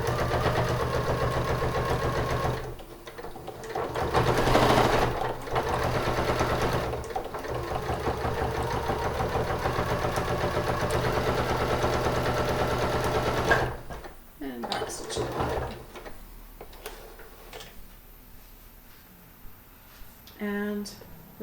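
A sewing machine runs in long steady bursts as it stitches a busk into a garment, backstitching first and then sewing forward. The motor whirs loud and close, with brief pauses between runs and a quieter stretch near the end.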